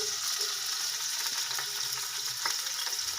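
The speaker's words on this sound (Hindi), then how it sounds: "ऑयल को हल्का सा आपने गर्म करके उसके अंदर आपने प्याज डाल देने हैं।" Onions fry in lightly heated oil for a vegetable pulao, a steady close crackling sizzle with faint stirring ticks and no voices.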